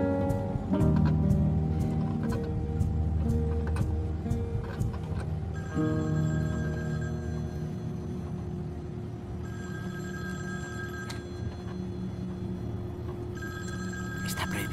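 A mobile telephone rings in a repeating electronic tone inside a vehicle, steady and fairly loud over a low engine hum, with no talk.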